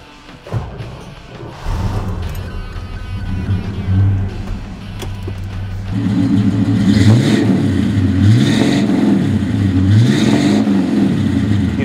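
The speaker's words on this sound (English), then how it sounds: "How about I start it for you so you can hear what it sounds like?" A 1955 Chevrolet Bel Air pro touring car cranks and fires up, settling into a loud rumbling idle before several rising and falling revs, close and strong with no talking.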